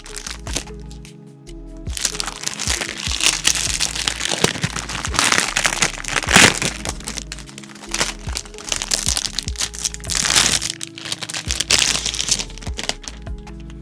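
Protective plastic film peeled off a new solid aluminum YUNZII AL68 keyboard, a close, continuous run of crinkling and crackling with sharp snaps, fairly loud throughout.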